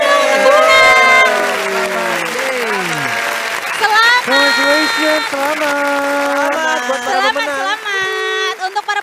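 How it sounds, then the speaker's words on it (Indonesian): A crowd applauds the winners of the Apresiasi Guru Inspiratif Indonesia 2021 teacher competition at an awards event. Steady clapping and cheers run under loud, bright music and voices. "tepuk tangan dong untuk pemenang"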